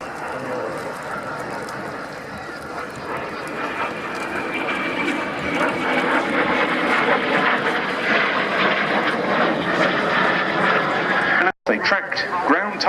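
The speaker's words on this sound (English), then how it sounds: "the two jets passing by there" Two jets pass by at the RNAS Yeovilton air day, a broad roar swelling steadily louder and holding near its peak before cutting off abruptly, with someone narrating over it.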